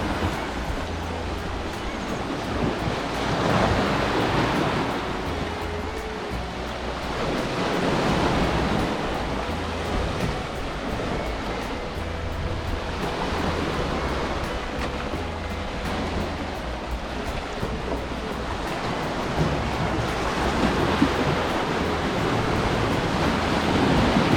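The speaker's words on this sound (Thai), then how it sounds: "เสียงคลื่นนะครับ" Steady broadband wash of ocean surf at Khao Laem Ya, Rayong, Thailand, waves rolling in continuously with gentle swells in loudness, no voices present.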